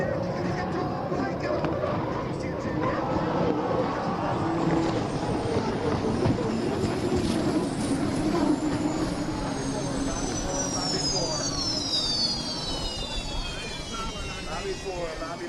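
Unlimited hydroplane racing boats on the Detroit River, their engines roaring loudly and continuously with pitch sweeps as boats pass, a broad mechanical din with crowd or commentary mixed in underneath.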